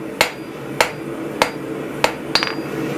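A hand hammer strikes steel at a forge, five sharp metallic blows about half a second to a second apart, close and ringing over a low background hum with no talking.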